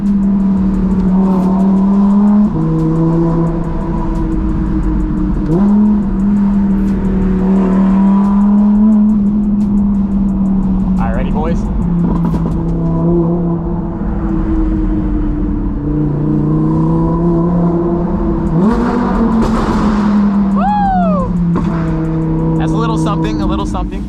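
An Audi R8 engine with loud exhaust droning and revving from inside the car, the pitch rising and falling through gear changes in a steady, close, constant roar.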